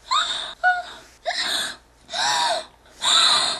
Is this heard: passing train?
no